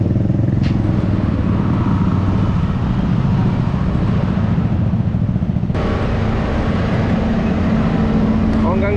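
Motorcycles on Adriatico Street in Remedios during a motorcycle unit clearing operation, engines idling and rumbling loudly and continuously close by, with street clatter and a busy traffic backdrop.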